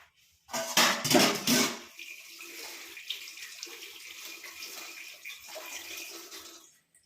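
Tap water runs while hands are washed, a loud splashing burst for about a second and a half, then a steadier, quieter stream with small splashes and clinks continuing to the end, with no talking.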